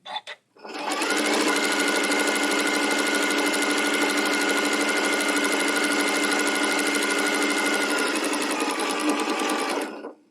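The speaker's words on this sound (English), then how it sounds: "And some speed helps too when you're sewing like this" A sewing machine runs continuously at high speed while stitching a fabric table runner, one steady loud whirring run of about nine seconds that starts and stops abruptly.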